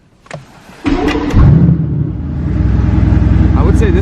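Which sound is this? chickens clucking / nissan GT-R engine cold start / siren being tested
nissan GT-R engine cold start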